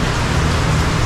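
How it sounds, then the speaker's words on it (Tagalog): Heavy rain pours down steadily in the Philippines during a typhoon, a dense, continuous wash of drops with no break in its loud roar. "kita mo, oh, lakas ng ulan oh"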